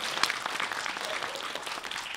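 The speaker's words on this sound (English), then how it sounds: "we could have an applause for that" Moderately quiet applause from a small art-event audience, a continuous patter of hand claps with a few louder individual claps standing out.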